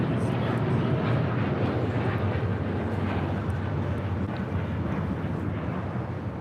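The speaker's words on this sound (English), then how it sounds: "This is Air Tahiti Nui Flight 8, taking off to Paris on a 787-9 Dreamliner" A Boeing 787-9 Dreamliner airliner of Air Tahiti Nui takes off at LAX, bound for Paris, giving a steady, loud, broadband jet roar with low rumble that holds throughout and fades slightly toward the end.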